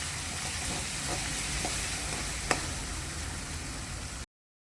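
Curry leaves and ground chili fry in a pan and are stirred, giving a steady close sizzle with a few faint scraping clicks and one sharp tap midway, before the sound cuts off.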